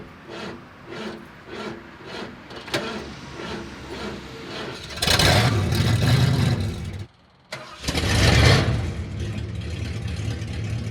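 A van engine cranks with rhythmic churning before catching into a loud rumbling idle, cutting out briefly, then roaring again close by.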